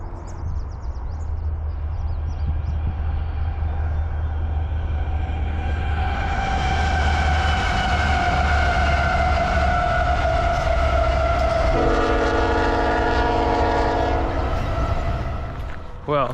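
A loud train rumbles past close by, its horn blaring in long sustained tones partway through, with steady low engine roar throughout.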